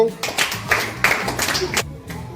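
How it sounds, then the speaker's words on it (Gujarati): Several people clap in a quick burst of applause during a classroom quiz, loud and close, with voices mixed in underneath. "તાળી પાડો."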